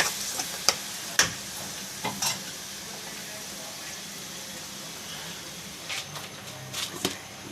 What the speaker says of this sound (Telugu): ఆనియన్ పేస్ట్ ఆయిల్లో బాగా మగ్గాలి ఆనియన్ పేస్ట్ అనేది.